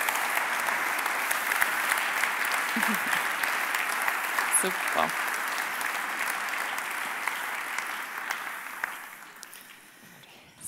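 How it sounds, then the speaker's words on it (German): Warm audience applause greeting guests on a Swiss talk show stage, a steady, even wash of clapping that runs for several seconds before thinning out, with a brief spoken word near the start. "Und tun sie doch mit einem warmen Applaus begrüßen"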